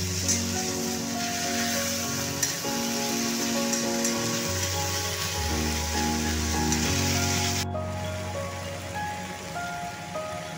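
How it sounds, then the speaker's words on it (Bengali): Onion, garlic and ginger paste fries in a pan with a steady, dense sizzle that carries on throughout, while soft music plays underneath. "এবার পেঁয়াজ রসুন ভালো মতন ভেজে নিয়ে তারপর অন্য মশলাগুলো দেওয়ার পালা"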